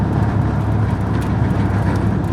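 A 1995 Oldsmobile 88 Royal with a 3800 engine cruises along the road, its steady loud interior rumble and road roar constant throughout, with no voices.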